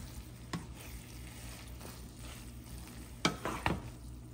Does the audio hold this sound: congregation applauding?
no